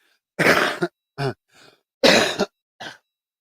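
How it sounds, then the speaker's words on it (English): Someone clears their throat twice in close succession, each a harsh rasping burst followed by shorter grunting catches, close and loud with silence between. "just clearing my throat"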